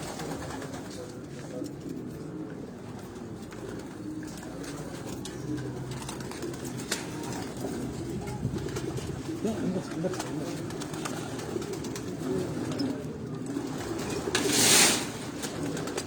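Racing pigeons in a loft's male cage coo softly throughout, with someone talking over the birds and steady room noise beneath.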